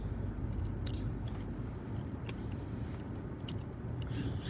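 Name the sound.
chewing gum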